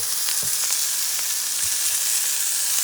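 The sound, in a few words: bison bacon sizzling in a cast iron pan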